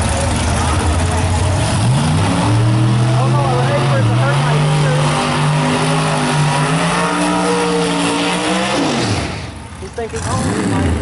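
A Chevy drag racing car engine revs loud and close at a drag strip, a steady roaring drone with pitch rising and falling for about nine seconds before cutting off abruptly.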